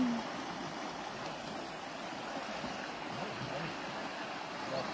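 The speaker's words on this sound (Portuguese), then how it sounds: "A água tá forte." Strong floodwater rushes through a street in Paulo Afonso, Bahia, after heavy Sunday rain, a steady broadband roar of churning water that holds at an even, loud level throughout with no clear voices.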